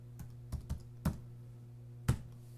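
Computer keyboard keys struck in a short sparse burst while entering a username and password, about five distinct clicks with uneven gaps over a low steady hum, quiet and close.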